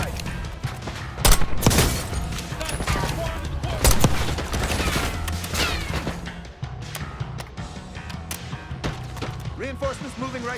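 In Call of Duty Black Ops 6, automatic gunfire rattles in dense bursts among heavy shots and impacts, loud and close, while voices call out over the battle.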